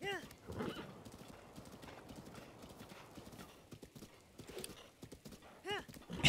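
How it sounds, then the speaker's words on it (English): A horse in Zelda: Breath of the Wild clip-clops along at speed with whinnies breaking out near the start and end, while someone talks over it throughout. "This horse does not like listening."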